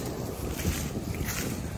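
Wind buffets the microphone on a rough sea at Newhaven, East Sussex, with a constant low rumble of waves and surging gusts close up, no voices.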